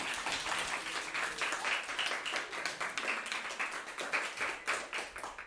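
A modest indoor audience at a talk concert claps warmly to welcome a North Korean defector speaker, with distinct individual hand claps in a quick, even patter that stays steady for over five seconds.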